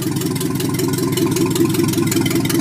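A Datsun 320 engine just hand-cranked to life and running without an exhaust, idling with a steady, rapid, rough chug, loud and close throughout.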